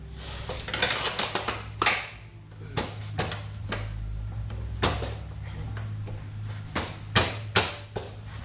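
Metal bicycle rear axle dropped back into its hub, a series of sharp clinks, taps and knocks at irregular intervals, close and fairly loud over a low background hum.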